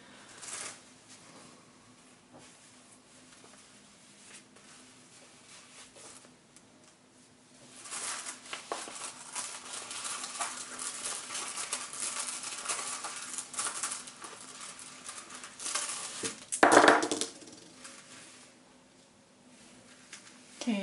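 Runes are cast for a reading, giving soft clattering and shuffling taps that rise in bursts midway, with one sharper knock near the end, over a quiet room.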